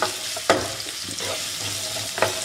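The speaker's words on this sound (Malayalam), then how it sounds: "നമുക്ക് സവാള നന്നായിട്ടൊന്ന് വഴറ്റി കൊടുക്കാം" Sliced onions sautéing in hot oil in a pan, a continuous close sizzle broken by a few sharp scrapes of a spatula against the metal.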